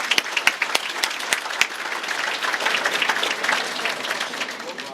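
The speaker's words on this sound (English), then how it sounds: "give not only all of our winners, but all of our generous donors a round of applause" Applause from a banquet audience at a chamber of commerce banquet and auction, a full room clapping steadily for about five seconds with sharp individual claps standing out near the start.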